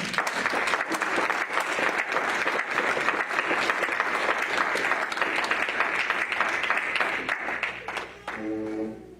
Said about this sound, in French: Nous pouvons acclamer pour le Seigneur.